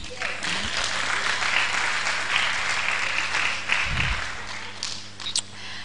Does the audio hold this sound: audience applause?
yes